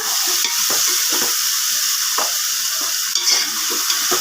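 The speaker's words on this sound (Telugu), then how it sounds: "ఒక స్పూన్ అల్లం చిల్లిపాయ పేస్ట్ వేసుకున్నాను ఇవి కలుపుకుందాం చూడండి ఎలా మగ్గుతున్నాయో" Ginger chili paste and vegetables being stirred in a hot pan, giving a strong steady sizzle with a few soft scrapes of the spoon, close and loud throughout, with no talking.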